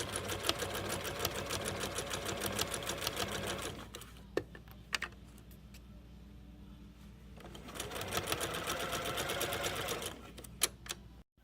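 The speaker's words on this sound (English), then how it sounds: "we're going to stitch 1/4 of an inch seam allowance again" A sewing machine stitches a quarter-inch shoulder seam on a shirt, running in a steady close whir, pausing briefly in the middle with a few clicks, then stitching again.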